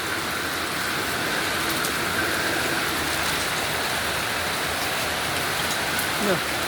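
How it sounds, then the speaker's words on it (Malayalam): Heavy rain falls steadily near houses, a constant broad rushing hiss that holds at the same fairly loud level for the whole stretch. "നല്ല മഴ"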